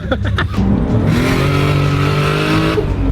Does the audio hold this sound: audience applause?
no